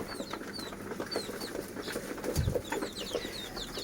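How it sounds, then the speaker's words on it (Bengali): Lotan pigeons at a pigeon farm, a busy flock of soft coos, chirps and fluttery calls overlapping nearby, with a brief low thump midway. "সবাই খাচ্ছে আহ সব লোটন কবুতর"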